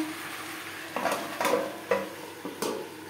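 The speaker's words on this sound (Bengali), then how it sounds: "সজনে ডাঁটা বেশ ভালো করে মিক্সড করে দেবো।" Drumstick pieces and spices get stirred in a pan on the stove for a Bengali fish curry, with four or five sharp scraping strokes of a spatula over a soft background sizzle.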